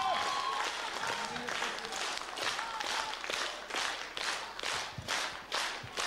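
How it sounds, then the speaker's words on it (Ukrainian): Concert audience applauding steadily after a song premiere, dense clapping from a large crowd sustained throughout, fairly close and continuous with slight swells. "ваші аплодисменти"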